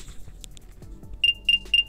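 Wiwu Airbuds Lite wireless earbuds emit their find-me alert, three short, bright electronic beeps in an even rhythm, fairly close and quiet, following faint handling noises.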